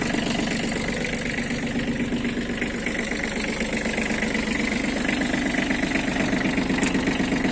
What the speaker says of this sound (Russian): Сейчас покрутим вал отбора мощности.